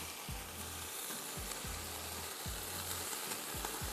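Chopped green chillies sizzle steadily in hot oil in a pan while cooking vegetable and chicken pulao, with a constant loud frying hiss and regular low thumps of stirring, no talking.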